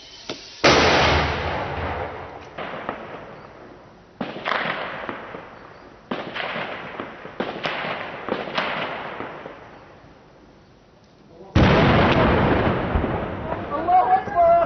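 Mortar shelling explosions thud and crack in a series of sharp blasts with echoing tails, some near and loud and others farther off, and a final heavy burst near the end.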